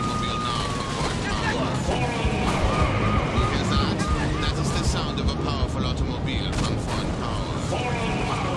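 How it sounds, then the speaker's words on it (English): A powerful Ford automobile's engine in a video game roars loudly and continuously, with rising and falling rev tones over a thick mechanical rumble, mixed with other game sounds. "That is the sound of a powerful automobile."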